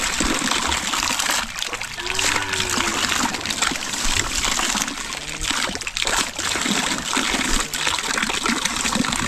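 Cold flowing water rushes and splashes in a steady, close, continuous wash, with bubbling detail and no clear pauses.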